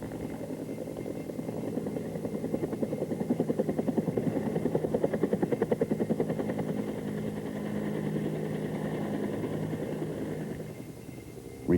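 A Bell AH-1 Cobra helicopter flies forward and climbs. Its steady rotor thump and engine drone stay moderately loud and even, with a faint rhythmic blade pulse throughout.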